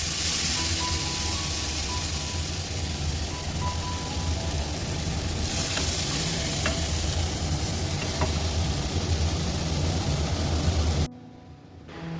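Besan batter and bread slices frying in a hot pan give a steady, close sizzle with soft stirring scrapes that runs the whole time and cuts off sharply near the end.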